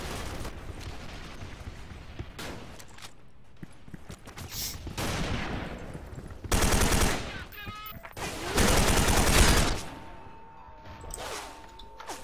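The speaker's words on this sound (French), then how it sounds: "Putain, y'en a qui me tire dessus." Bursts of video game gunfire, loud broadband volleys around four to five seconds, then heavier sustained fire near seven and nine seconds, with scattered shots between, mixed with game sounds.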